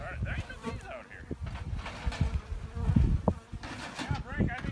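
Bees swarm around a boat out on the water, buzzing and whining close by throughout, with people talking over the insect drone.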